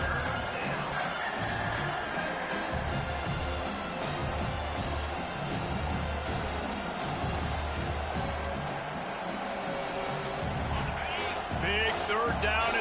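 Stadium crowd noise from an NCAA football video game, a Colorado at South Carolina matchup, with a steady dense roar and scattered cheers filling the whole stretch beneath continuous commentary.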